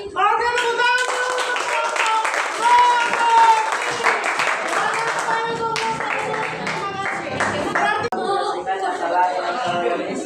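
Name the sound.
applause from the audience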